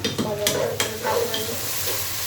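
A spice paste sautéing in hot oil for a Bengali fish curry gives a continuous close sizzle, punctuated by a few sharp spatula taps and scrapes against the pan, with no voices.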